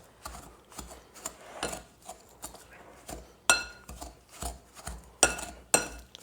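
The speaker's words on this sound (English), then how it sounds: "We're going to use our pastry blender to combine everything" Pastry blender working graham cracker crumbs, sugar and melted butter in a bowl: quiet, rhythmic scraping and clinking strokes repeating about twice a second, close and soft.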